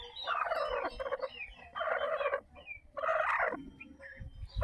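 A turkey on a farm gobbles close by in repeated rattling bursts, three main calls separated by short pauses, with faint chirps in between and no one speaking.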